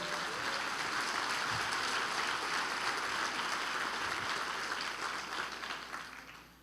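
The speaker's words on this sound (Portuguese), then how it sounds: "Se você crê, dê um aplauso ao Senhor." A church congregation applauds during a sermon, a broad, even roar of many hands clapping that holds steady, then tapers off near the end.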